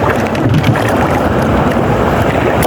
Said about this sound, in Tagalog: kung hindi lang sana malakas yung habagat